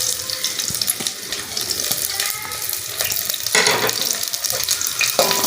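Two medium onions dropped into hot oil with cumin seeds, frying in a pan for turnip bhujiya: a loud, continuous sizzle and crackle with a sudden surge partway through, no talking.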